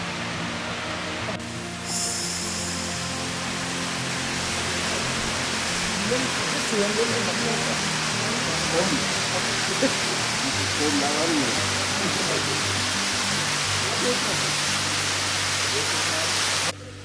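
A small waterfall beside the stone-step hiking trail to Tiger's Nest in Bhutan, near a footbridge, gives a steady, dense rush of falling water that fills the whole stretch without pause, with some faint lower tones underneath.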